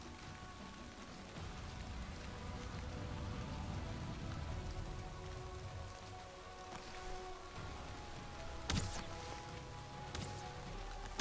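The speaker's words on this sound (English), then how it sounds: "It does kind of perpetually rain in the swamp." Steady heavy rain in the swamp of the video game Valheim pours continuously, a dense hiss of drops with low rumbling beneath and a couple of sharp crackles near the end.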